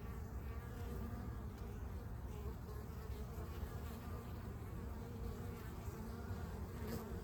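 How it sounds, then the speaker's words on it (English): Honeybees fly in and out of a hive carrying yellow and white pollen, a dense steady buzzing swarm close by with no voices. "They go in the hive so quick, sometimes you miss it."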